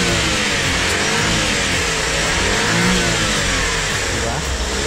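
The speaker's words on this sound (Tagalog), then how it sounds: "So try natin yung power ng ating makina." A Suzuki Every Wagon mini van engine revs up and settles, a steady mid-pitched running note with rising swells, heard close under the hood.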